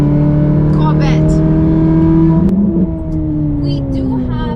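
Corvette with an aftermarket exhaust, its engine droning steadily and loudly, then easing off toward the end, with speech over the engine sound.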